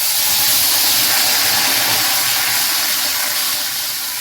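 Water sprinkled onto a hot iron griddle (tava), heated for flatbread, bursts into a loud, close, continuous steamy hiss that fades slightly toward the end.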